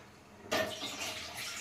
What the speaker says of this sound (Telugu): ఇట్లాంటి 2 బోగాలు నీళ్ళు పోయాలి.